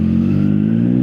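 Triumph Daytona 660 motorcycle engine running close by, a steady loud mid-pitched drone with strong low harmonics holding evenly through the short stretch, no voices.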